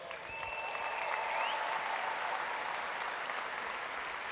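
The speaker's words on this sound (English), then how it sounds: "Can we give him a huge round of applause?" An audience at a business training event gives a sustained round of applause, a thick, even roar of many hands with a faint whistle early on, fairly distant and steady.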